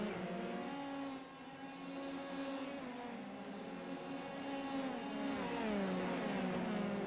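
F3 race cars in a sim racing game at Circuit Gilles Villeneuve, heading into the hairpin as a train of cars; engines drone and shift pitch continuously, rising and falling as they rev and brake, with no voices.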